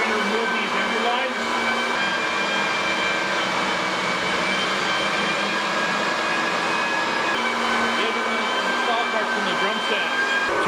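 A floor edger sands a maple floor, giving a loud, unbroken high-pitched motor whine with a rough grinding roar beneath it. The sound holds steady from start to finish and carries no talk.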